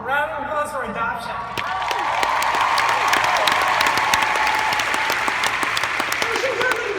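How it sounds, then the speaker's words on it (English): A theatre audience at a Nashville summit breaks into sustained, dense applause that swells after the first second and holds steady, loud and close, with scattered cheers mixed into the clapping. "Round of applause for adoption."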